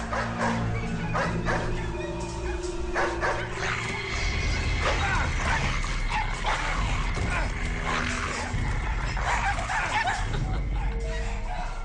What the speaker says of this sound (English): Walter, see what has those dogs riled up?